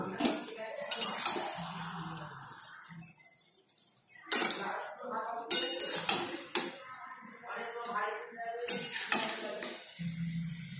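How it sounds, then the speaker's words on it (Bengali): Spicy gravy chili paneer scraped and poured from a metal pan into a serving dish, with intermittent spoon clinks and scraping bursts separated by quiet gaps, close and moderately loud. "নাড়তে থাকবো হালকা হাতে আমাদের দেখতে পাচ্ছেন পনিরটি তৈরি হয়ে গেছে এবার আমরা পাত্রে ঢেলে নেব"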